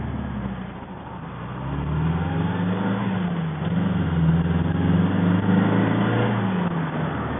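MGB GT sports car climbing a steep hill under acceleration, its engine note holding a steady drone and rising in pitch as it pulls harder, heard from inside the car without talk.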